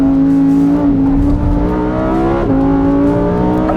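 A loud Lamborghini Huracan Sterrato engine howls steadily at high revs, the pitch dipping briefly at gear changes, close and continuous with no talking.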